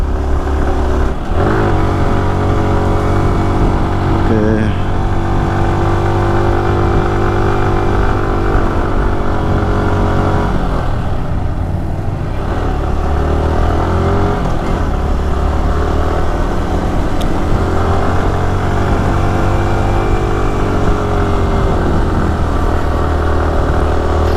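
Premium motorcycle ridden along the Udaipur border road, its engine a steady, close drone that holds nearly constant throughout, with small shifts in pitch as the throttle changes and no voices.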